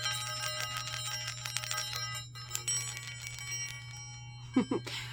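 Metal exercise balls chime and ring with bright, sustained tones, one pitch higher and one lower, over a steady low hum, with a few clanks near the end.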